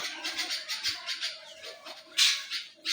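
Birds call in quick repeated chirps and squawks, fairly close, with a louder burst of calls toward the end.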